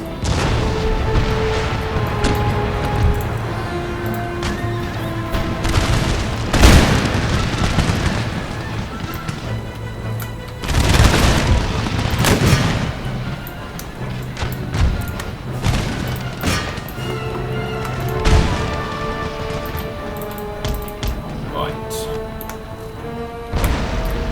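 Repeated musket volleys and artillery shots thunder across a battlefield in Empire: Total War (Darthmod, Ottoman campaign), loud booms and thuds recurring every few seconds over constant battle rumble.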